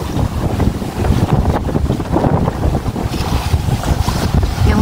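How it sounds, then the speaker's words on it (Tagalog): Constant wind sweeping across the deck of a derelict old battleship, a loud continuous roar and buffeting against the microphone, with a rumbling low undertone like sea and surf and no speech. "Yung hangin dito constant."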